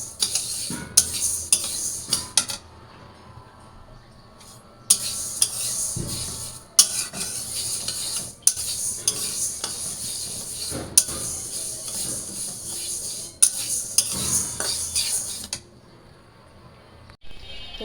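Dal being fried and stirred in a pan: scraping spatula strokes and clinks of utensil on metal come in bursts over a steady sizzle, with brief quiet pauses between rounds of stirring.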